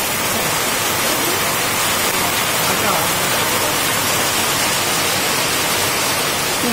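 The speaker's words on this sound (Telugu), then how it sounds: "పొద్దున్నుంచి పడుతుంది వర్షం" Heavy, unbroken rain roars steadily across Dubbaka village, a dense loud wash with no gaps and no voices.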